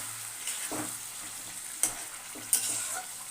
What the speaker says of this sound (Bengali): অল্প অল্প জল দিয়ে আমি এটাকে কষিয়ে নেবো